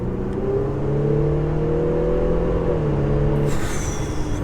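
An Audi 3-litre bi-turbo TDI diesel, a 550bhp sleeper, pulls steadily as third gear engages, its engine drone rising in pitch and then dipping at the shift, heard from inside the car with no talking.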